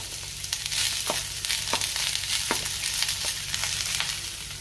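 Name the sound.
onion roasting on griddle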